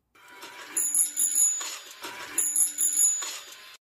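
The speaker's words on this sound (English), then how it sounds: "he gets interrupted by the tricycle bell sound" A tricycle bell rings out in a movie scene, bright metallic rings arriving in two quick bursts separated by a short gap, fairly close and alone against quiet.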